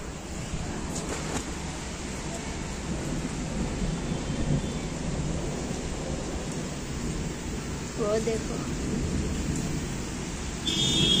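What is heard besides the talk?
heavy rain with thunder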